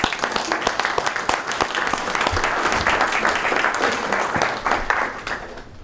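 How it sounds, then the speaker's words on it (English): An audience at a September 11 event breaks into warm, sustained applause that holds at full strength, then tapers off near the end. "let's give them a round of applause"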